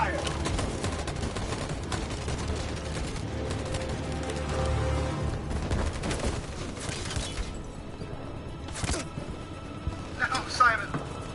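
Dense volleys of gunfire erupt on command, a loud continuous crackle of overlapping shots that thins out toward the end, with voices shouting over the firing.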